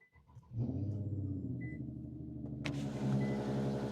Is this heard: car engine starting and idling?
yes